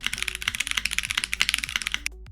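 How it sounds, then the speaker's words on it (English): Fast, even typing on a Cherry MX mechanical keyboard built into a budget gaming laptop, with crisp clacking keystrokes close up that stop abruptly near the end, no voices. "Plus, it's got a Cherry MX mechanical keyboard."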